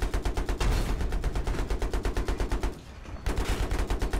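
Automatic gunfire in the Battlefield V Firestorm video game, rapid evenly spaced shots in loud sustained bursts, one brief pause midway before firing resumes.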